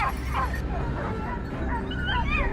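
Several hunting dogs bark and yip in quick, overlapping bursts over a constant low rumble during a wild boar chase in a pine forest, with a busy, crowded outdoor feel.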